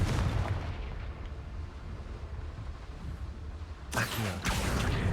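A Confringo fire spell bursts in Hogwarts Legacy during combat, with a low rumbling blast filling the clip and a sharp, loud burst near the end.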